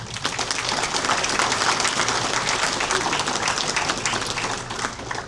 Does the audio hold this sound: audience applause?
yes